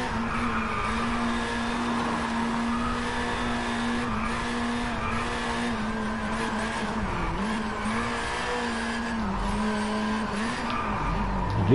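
Car drifting in DriveClub, engine holding a steady high drone while tires squeal and skid continuously throughout, loud and close with no talk.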